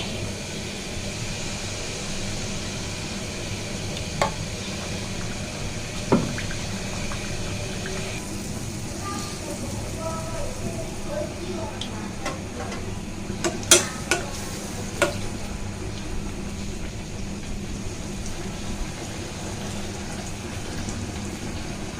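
Rice flour pua pitha frying in hot oil in a kadai, a steady close sizzle with a low hum beneath and a few sharp clicks and taps from the utensil.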